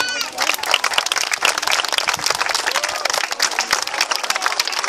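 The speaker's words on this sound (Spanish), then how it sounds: "a los cuales les pedimos un fuerte aplauso" Crowd at a children's club gathering giving a strong round of applause, loud dense clapping from many hands with bursts of cheering and overlapping voices throughout.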